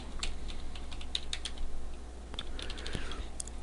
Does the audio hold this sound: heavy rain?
no